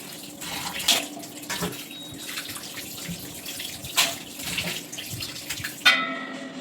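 Tap water runs steadily over raw chicken pieces being washed at home for chicken fry, with a few brief clinks and splashes rising above the flow; no one speaks.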